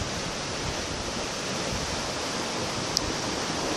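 Ocean waves wash against the tetrapod breakwater of the north jetty at Port Ouest, Réunion Island, heard as a steady, broadband surf roar at moderate distance, with no talking.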